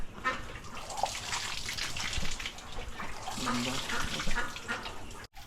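Water gushes steadily from a hand-operated water pump and faucet at a project site in Tarlac City, a continuous splashing flow, with someone talking over it.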